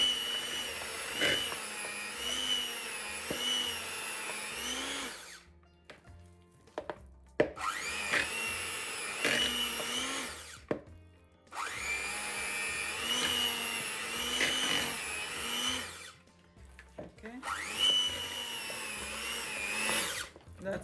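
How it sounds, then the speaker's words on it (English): An electric whisk whips softened cream cheese for a citrus cheesecake, whirring steadily in long bursts of about five seconds separated by short pauses, loud and close. "This one does, so we can start whisking this."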